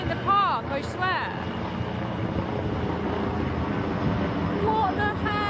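A low-flying helicopter circles overhead above a residential backyard beside a park, its steady droning rotor hum continuing under people talking nearby.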